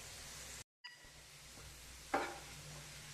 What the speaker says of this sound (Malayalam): ഇനി ഇഞ്ചിയും വെളുത്തുള്ളി ഇട്ട് കൊടുക്കാം. കറിവേപ്പില, ആവശ്യത്തിന് ഉപ്പും കൂടി ഇട്ട് കൊടുത്തിട്ട് നന്നായി വഴറ്റിയെടുക്കാം.